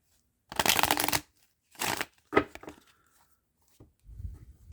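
Traditional tarot deck being shuffled up close, several bursts of riffling and sliding cards separated by short pauses, with no talking.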